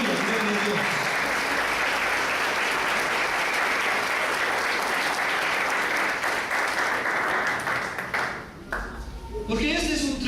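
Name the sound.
church congregation applauding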